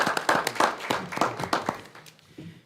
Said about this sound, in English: I think we should give Brian a round of applause as well